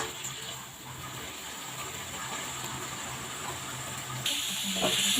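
Chicken browning in a pan, its masala being stirred, gives off a steady, close, fairly loud hiss of steam and sizzle that runs unbroken and brightens near the end.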